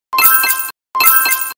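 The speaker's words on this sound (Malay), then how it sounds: "cara nak bunyi notifikasi duit masuk jika ada" The Maybank MAE banking app sounds its incoming-money notification as two identical bright, clear chime tones, each about half a second long, separated by a brief silence, with no talking.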